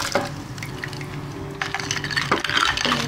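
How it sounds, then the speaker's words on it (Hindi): Ice-cold water splashes and pours steadily into green tea for a few seconds, a close, moderately loud gush with some clinking at the end. "अब इस स्टेज पे हम इसमें ठंडा यख बर्फ़ वाला पानी डालेंगे"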